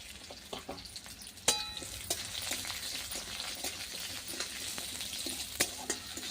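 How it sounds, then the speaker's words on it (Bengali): Lentil dumplings (bori) frying with chopped onion in hot mustard oil: a steady, crackling sizzle with occasional sharp clinks of a utensil against the pan, no voices. "লাল করে বড়িগুলো ভেজে নেব"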